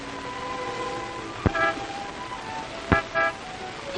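A car horn honks twice, two short separate toots about a second and a half apart, over a steady hum of background noise.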